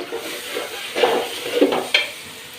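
Food sizzles in a hot pan while a spoon stirs it, with several scraping strokes and clinks over a steady frying hiss, close and moderately loud.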